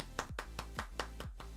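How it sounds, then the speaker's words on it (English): Applause as a sound effect: sharp, evenly spaced claps, about seven in a brisk rhythm, close and fairly quiet, with no voices. "it's a round of applause"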